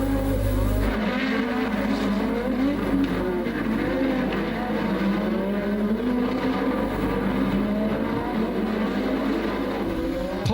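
Formula 1 race cars at the 1985 Detroit Grand Prix, a street circuit, with engines droning steadily and loudly throughout, their pitch rising and falling as cars accelerate and pass.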